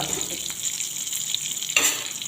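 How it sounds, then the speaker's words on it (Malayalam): Sardines fry in a pan with a steady, moderately loud sizzle that stays level throughout and swells briefly near the end, with no talk. "വളരെ രുചികരമായ ഒരു മത്തി ഫ്രൈ ആണ് നമ്മൾ ചെയ്തത്"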